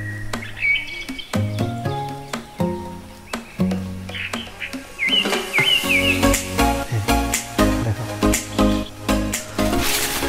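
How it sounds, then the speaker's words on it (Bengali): Birds chirp and tweet in hilly countryside at Ramgarh, Khagrachhari, with a string of sharp, scattered calls over a busy, cluttered background of other tones, no speech. "পাখির শব্দ শোনা যাচ্ছে কোথায় যেন।"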